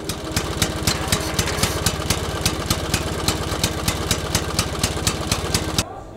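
Motorcycle arcade game aboard the Viking Line ship Cinderella, giving a steady, loud engine drone with rapid regular pulses and periodic sharp ticks, cutting off abruptly near the end.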